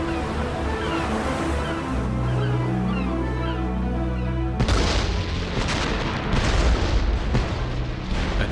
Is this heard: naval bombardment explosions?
yes